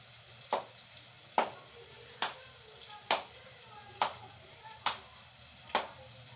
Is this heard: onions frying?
yes